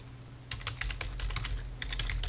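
Rapid typing on a computer keyboard, a steady run of crisp key clicks after a short pause, close and clear with no talking.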